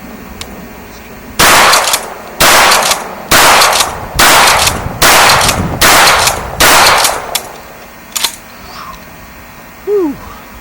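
Rapid string of seven loud, close shotgun blasts from a Remington 870 Wingmaster 20 gauge pump-action, evenly spaced about a second apart, each with a sharp crack and short decay, followed by quieter shuffling.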